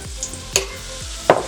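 Mushrooms stir-fried in a tablespoon of oil in a hot wok, with two or three sharp close scraping stir strokes over a low background hum.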